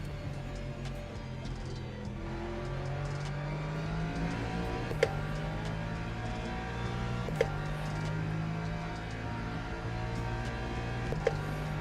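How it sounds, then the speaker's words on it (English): A hypercar engine drives on track in Le Mans Ultimate, steady in-car engine drone with gear changes and rising revs, loud and continuous, with a few sharp clicks over it. "Why is this hypercar going so slow?"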